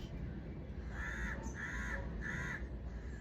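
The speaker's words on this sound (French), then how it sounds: "les corneilles" Three harsh crow caws ring out in quick succession over a steady background hiss of surf, moderately distant.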